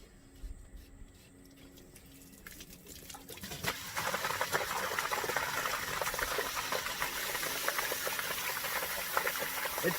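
Over 35 gallons of water released from a full container into a French drain, starting quiet then surging into a loud, steady rushing and gurgling flow from about four seconds on.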